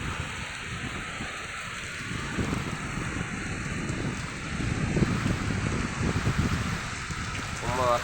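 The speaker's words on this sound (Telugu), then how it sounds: "చూడండి, మంచి వర్షం." Heavy rain pouring down at night outdoors, a dense steady hiss with gusty wind rumble that swells toward the end.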